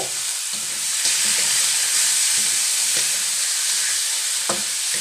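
Water spinach adobo with tofu and pork fries loudly in a pan, a steady close sizzle broken by repeated scraping stir strokes, with no talking.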